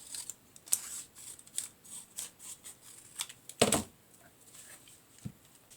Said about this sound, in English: I'm going to use the scissors and cut this.